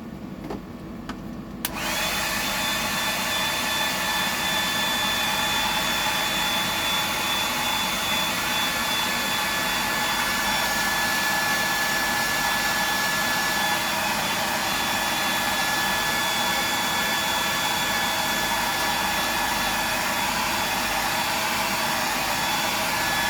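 A hair dryer runs steadily after a short quiet start, drying paint on a tailor fishing lure, with a loud, constant airy roar and a high whine held throughout.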